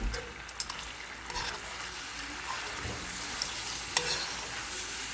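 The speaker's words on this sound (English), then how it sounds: "Now you add the pasta." Pasta with spring onions and baby leeks tossed in a hot pan gives a soft continuous sizzle with a few sharp clicks and scrapes of utensils, close and steady; no talk.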